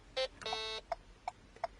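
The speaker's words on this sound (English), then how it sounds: "2 beeps is actually a left indicator, so if I press it and hold it for 2 beeps, my left indicator will then be going." Electronic bleeper on a car's left indicator control: a short beep and a longer tone, then three evenly spaced short beeps, fairly faint and clear with no talking.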